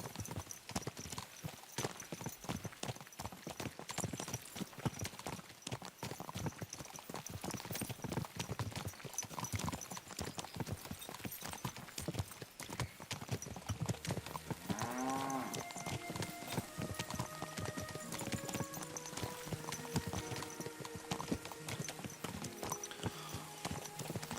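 Horse hooves clip-clop in a steady, quick rhythm throughout in the video game Kingdom Come: Deliverance II, joined midway by a brief whinny-like tonal sound and a background hum.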